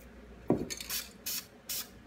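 Short bursts of hissing spray paint from an aerosol can, three quick sprays after a small clink, close and fairly quiet.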